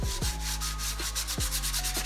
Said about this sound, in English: So what I just do is take some sandpaper